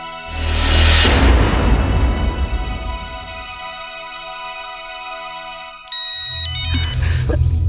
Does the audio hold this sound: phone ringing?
yes